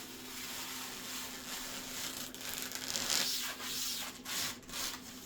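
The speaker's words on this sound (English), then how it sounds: "Peeling off the plastic." Protective plastic film being peeled off a new MSI Z790 computer part, a soft, quiet rubbing and tearing rasp with a few brief louder swells over faint room hum.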